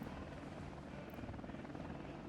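Helicopter in the city-building game Workers & Resources: Soviet Republic, a steady dense rotor thrum and engine roar holding at an even level throughout, nearby and unbroken.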